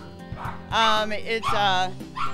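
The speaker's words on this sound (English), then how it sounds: "The dogs are really happy. Can you hear them?" Several dogs in an animal shelter bark and yip excitedly, loud and close, with overlapping high barks and whines; a person talks briefly in the background.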